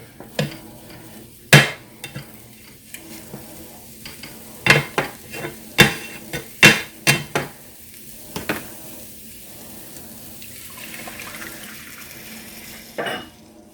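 Spatula scraping and tapping against a pan in a string of sharp clicks while eggs are scrambled, over a soft sizzle of cooking, no talking.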